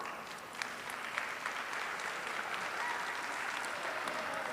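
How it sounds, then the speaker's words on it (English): Applause from a crowd at a county fair livestock show, a soft, fairly distant patter of many hands that holds steady throughout. "Let's give him a big round of applause."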